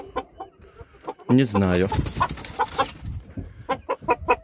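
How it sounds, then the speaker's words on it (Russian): Young roosters among many hens in a farmyard cluck and call in short bursts, with one louder crowing-like cry in the middle, as people speak briefly nearby. "Так уже еще есть молодые здесь петухи, которые уже большие."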